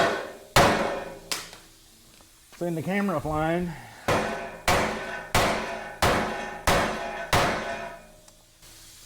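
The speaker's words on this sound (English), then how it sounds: "Hopefully now, a little tap with the hammer," A hammer strikes a rusty pickup truck frame's spring hanger in a series of sharp metallic blows, two early hits then a steady run of about seven evenly spaced ringing knocks, close and loud, with a brief spoken remark between them.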